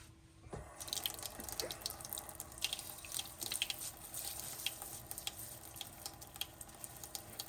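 A kitchen tap runs with weak pressure into a sink while dishes are washed, a steady hiss and splash with intermittent drips and clatters, close by and unbroken by speech.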